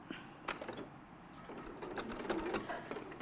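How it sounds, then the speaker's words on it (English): A sewing machine stitches a quarter-inch fabric seam, a steady low mechanical whirr with faint rhythmic ticking, close by and moderately quiet. "I'm going to be stitching in the right place"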